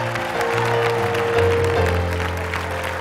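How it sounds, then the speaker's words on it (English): A church congregation at a revival service claps and shouts together, a loud, continuous mix of hand claps and raised voices, with sustained organ-like tones running underneath. "Somebody clap your hands and shout."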